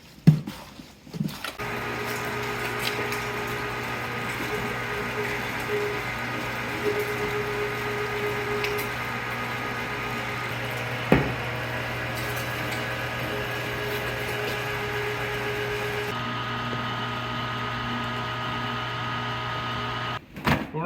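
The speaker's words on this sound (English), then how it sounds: "We're running through the grinder twice." Electric meat grinder running steadily with a constant motor hum while grinding about 25 pounds of pork sausage meat, a second pass of the batch through the grinder, with only a brief clunk near the middle and no talk.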